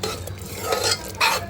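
Ground masala paste for Hyderabadi mutton keema is stirred in oil over a low flame. Short scraping strokes and light clatter of a spoon against the pan sound over a soft sizzle.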